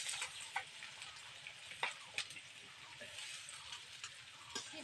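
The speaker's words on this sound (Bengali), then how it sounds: "এবার তেলের মধ্যে আমি আগে দিয়ে পেঁয়াজ কুচিয়ে নিয়েছি, এই পেঁয়াজগুলো বেরেস্তা বানিয়ে নেবো।" Chopped onions frying in plenty of hot oil for birista, a steady close sizzle with faint stirring clicks and occasional small pops, no talk.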